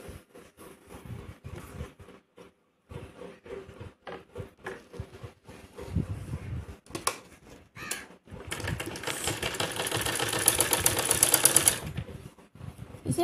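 A sewing machine joins the pieces of a half-inner fancy blouse. Scattered soft handling taps come first, then a loud continuous stitching run in the latter half and a brief restart at the close.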